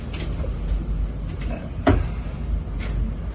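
Cabinet doors at a construction project knock and click several times, with a sharper bang near the middle, over a constant low background rumble.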